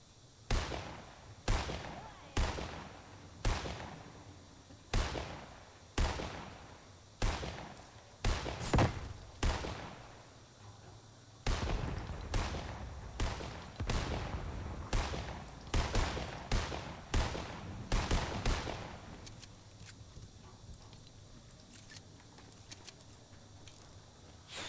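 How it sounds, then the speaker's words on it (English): Repeated gunshots from shooting in Fortnite, sharp loud bangs in irregular bursts, some in quick doubles, continuing for about twenty seconds before fading to a quieter background. "I'm shooting at somebody."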